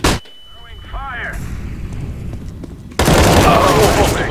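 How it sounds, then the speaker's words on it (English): A flashbang and a fire grenade thrown in CS:GO, sounding as a sharp burst and brief hissing whoosh, followed by a sudden loud, dense roar of fire and gunfire that fills the last second. "Throwing flashbang. Throwing fire."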